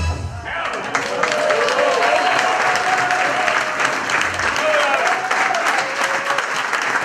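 An audience at a Kölsch-style evening show applauds loudly and steadily throughout, a dense roar of clapping with a few voices mixed in from the crowd.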